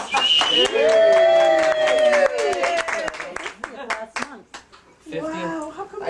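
Clapping and cheering break out at a 50th wedding anniversary party at home, close and lively bursts mixed with overlapping talk and a voice before fading into conversation.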